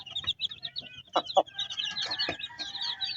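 A hen clucking in a barnyard, short throaty calls repeating irregularly and close by, with a few sharper squawks midway and other chickens faintly around.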